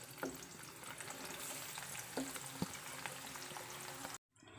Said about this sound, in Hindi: इसमें ज़्यादा सारा मैंने ऑयल डाला है और जो 2 प्याज बचे हैं वो इसमें मैं फ्राई करूँगी।